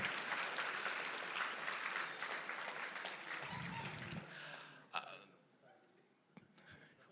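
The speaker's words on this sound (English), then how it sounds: "Clap. You clap now." Convention crowd applauding at an opening ceremony, a dense wash of clapping that fills the first few seconds and then tapers off into scattered claps and quiet murmurs.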